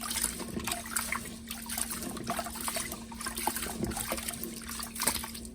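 Sticky rice being rinsed in water, close gentle sloshing and trickling with soft irregular splashes continuing steadily throughout, over a faint low hum.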